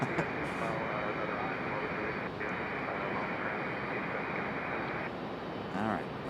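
A Delta Embraer E175 jet airliner at Raleigh Durham International airport gives a loud, steady broadband engine roar that holds throughout.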